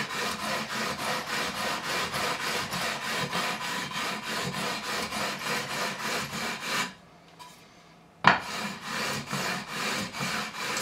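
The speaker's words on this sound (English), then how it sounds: "So this 400 grit is smoother, obviously, than the 240 grit." Fine 400-grit sandpaper rubs over the frets of a Fender Tom DeLonge Stratocaster in steady, rapid back-and-forth strokes, loud and close, pausing briefly near the end before resuming, with no speech.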